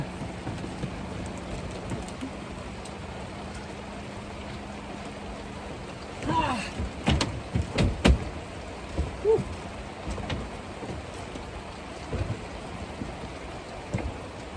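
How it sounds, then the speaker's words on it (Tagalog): Steady heavy rain pours down throughout, with a few louder spatters and knocks rising out of the downpour in the middle. "Lakas ng ulan."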